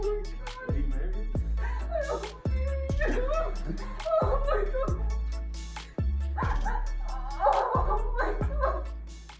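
A small puppy yips and barks in short repeated bursts, close by, mixed with people's voices and soft laughter at a family surprise.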